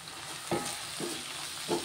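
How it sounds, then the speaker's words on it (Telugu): Cauliflower curry with coriander and chili powder stirred in a pan, a steady sizzle with three soft scrapes of a spoon spaced through the short stretch. "ధనియాల పొడి, కారం పొడి వేసుకొని కలుపుకుంటున్నాను"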